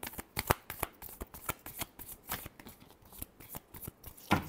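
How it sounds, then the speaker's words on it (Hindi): A deck of tarot cards is riffled and shuffled in a quick run of crisp, papery flutters and slaps, close and clear, ending with a louder final burst; no one speaks over it. "Last shuffle."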